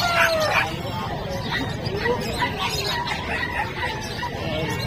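Chickens cluck and squawk at a busy outdoor pet market in Bocaue, with crowd chatter and voices mixed underneath.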